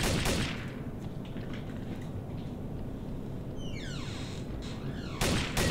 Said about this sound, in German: Jack, wieso schießt du auf mich?